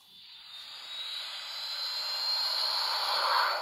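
Airplane sound effect from a children's hidden-object video game: a steady jet-engine roar with hiss that swells gradually louder over several seconds, heard alone.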